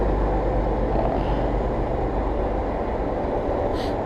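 A train rolls along the active BNSF Railway track beside Cedar Lake Park, a loud, steady, close rumble that holds throughout.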